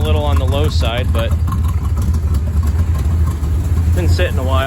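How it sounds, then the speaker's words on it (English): A 1953 Chevrolet Bel Air gasser hot rod with a 305 V8 idles low and steady in a close, rumbling drone while someone talks over it. "Idling a little on the low side"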